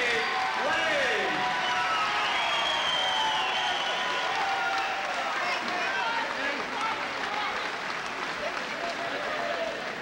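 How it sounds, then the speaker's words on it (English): Sustained crowd noise with applause and cheering at a comeback appearance by a 50-year-old athlete at a boxing-style sports event, loud and continuous for the full stretch with voices mixed in. "Once again, a nice round of applause for your own Kenny Lane"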